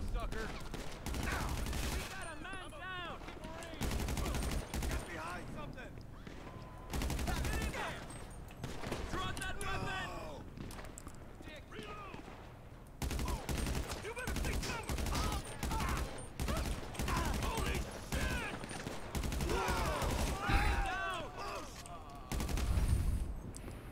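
Rapid gunfire from a GTA 5 firefight, bursts of shots repeating through the scene, with voices talking loudly over much of it.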